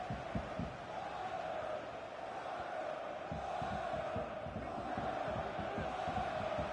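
A stadium crowd roars steadily in a FIFA 23 match played on PS5, a dense continuous wall of massed voices with faint rhythmic chanting underneath, loud and even throughout.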